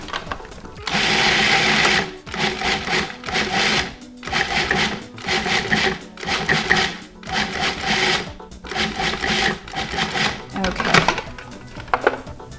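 Nuts being blended in a food processor for an apple crisp topping, a loud, close whirring grind in several pulsed bursts separated by short breaks.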